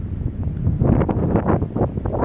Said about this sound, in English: the wind's coming right through the side of this